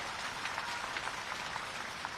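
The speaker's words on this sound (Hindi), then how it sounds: "तालियों की गड़गड़ाहट से धन्यवाद अर्पित किया जाए।" A village crowd at a political rally in Madhya Pradesh claps steadily in a dense patter of many hands, heard from a distance at moderate level with no break.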